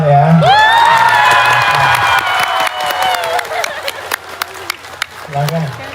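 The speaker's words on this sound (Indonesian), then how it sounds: "Berikan tepuk tangan, boleh" A crowd at a religious gathering in a park in Taiwan erupts in cheers, whoops and shouts, some of them children's, with scattered clapping that fades into sparse individual claps and voices.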